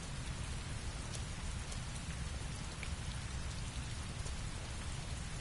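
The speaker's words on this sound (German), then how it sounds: "Starker Regen, das geht schon seit Wochen." Heavy rain in the video game Heavy Rain: steady dense downpour hissing broadly with a low rumbling wash, constant and close, with occasional sharper drop hits and no voices.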